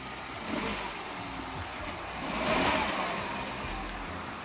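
A new 150 HP car's engine revs and accelerates, the mid-pitched motor note swelling to a louder peak midway then easing off, with no talking.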